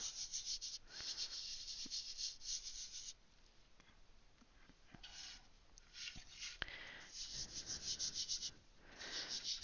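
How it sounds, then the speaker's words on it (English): Arrtx soft pastel is rubbed into gray toned paper in a close, quiet, dry scratchy rubbing with repeated strokes that pause briefly and then resume. "the pastel itself seems to be smooth enough that I can actually just rub it right into the paper"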